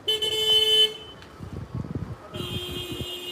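A car horn honks in two sustained blasts outside a hospital, loud and close, with a short gap between them and people talking underneath.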